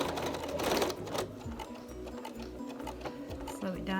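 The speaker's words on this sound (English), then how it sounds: "where we need to stop sewing and give a little bit of extra back stitching" Close, rattling whir of a sewing machine stitching a wash bag, running in bursts with short stops and a brief reverse for back stitching, a voice talking faintly underneath.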